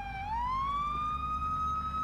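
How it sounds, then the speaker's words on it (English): A police car siren in the Police Simulator video game wails steadily and loudly, its tone rising and then holding high over a low rumbling background. "Let me shut the sirens off then,"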